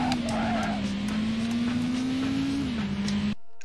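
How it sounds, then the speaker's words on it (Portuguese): Car tires squeal on a racing vehicle in the PlayStation video game Driver 2, over a steady, loud engine drone that holds almost unbroken for about three seconds before cutting out. "Canta pneu, fi."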